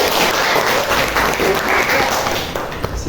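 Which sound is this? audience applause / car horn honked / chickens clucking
audience applause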